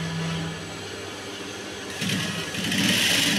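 A sewing machine stitches a blouse, its motor whirring steadily up close, then speeding up into a brighter, faster buzz partway through, with no speech.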